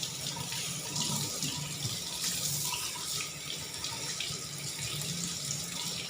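Warm water runs steadily over catfish in a sink as the slime is washed off, a continuous close splashing flow with no talk.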